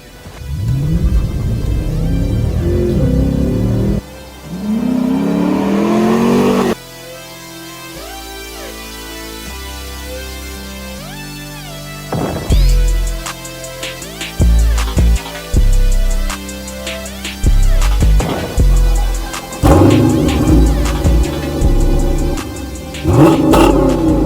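A Dodge Challenger R/T accelerates hard from a standstill toward 60 mph on a winter road. The loud engine roar climbs through several gears with clear drops at each shift, then settles into a steady cruise with bursts of revving.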